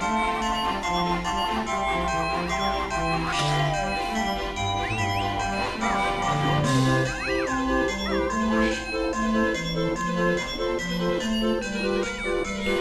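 Jingling Christmas tree bells woven into cheerful Banjo-Kazooie game music, a steady tinkling melody over a bouncy bass line, loud and continuous throughout.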